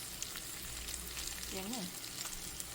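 Soft, constant sizzling of fatty beef intestine frying in a pan, fairly quiet, with a brief faint voice murmuring in the middle.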